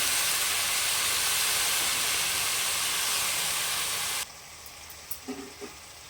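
Mutton and onions fry in a pan with a steady, loud sizzling hiss that cuts off abruptly, followed by a few soft clinks and stirring sounds.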